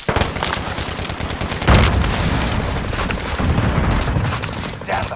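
Frag grenade blast and surrounding combat in Call of Duty: Modern Warfare, a dense, loud rumbling wash with a heavy boom partway through and continuous gunfire-like crackle throughout.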